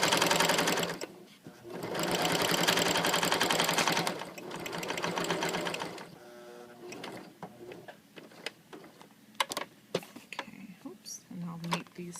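A sewing machine stitches through paper collage postcards in two loud, steady whirring runs, followed by quieter clicks, handling noises and a few short stitching bursts.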